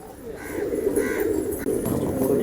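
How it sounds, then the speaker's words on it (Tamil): Pigeons coo in a loft holding many pairs, soft low rolling calls repeating close by over a busy background. "நிறைய ஜோடி புறாக்கள் இருக்கு."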